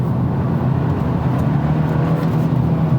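A 2021 Hyundai Elantra N-line sedan drones steadily under throttle, a loud, even low engine and road rumble heard from inside with no talking.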